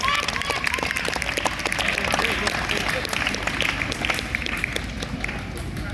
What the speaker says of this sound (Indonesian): Tepuk tangan untuk Jabo Widianto